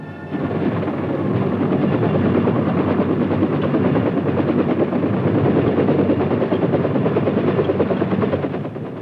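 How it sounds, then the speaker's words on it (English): Military helicopter running on a Vietnam War airfield flight line, a loud, continuous rotor thump and turbine roar that holds steady from start to finish with no talk. "the chopper is moved to a different part of the field where the rocket pods are armed and the gun barrels are put on"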